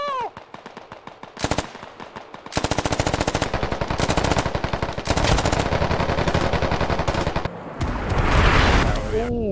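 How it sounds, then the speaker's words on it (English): Enemy artillery fire in Squad lands amid sustained rapid automatic gunfire, with dense loud bursts and heavy booms across the span and brief pauses between volleys. "that's enemy enemy artillery"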